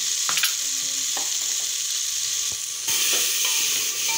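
Tomato sautés in a hot pan for masala rice, a steady loud sizzle and hiss throughout with a few faint clinks of stirring.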